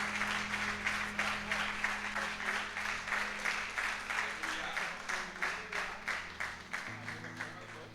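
A church congregation claps in a steady, rhythmic beat for about eight seconds, evenly paced and moderately near, with a low sustained tone underneath.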